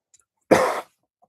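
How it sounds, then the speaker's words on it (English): A single short, harsh cough, close and loud, bursting out of near silence and fading after about a third of a second. "What the heck is going on with this cough today?"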